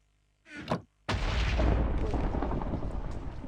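A Minecraft player death effect: a quick whoosh, a brief gap, then a loud, sustained crashing burst that rumbles on.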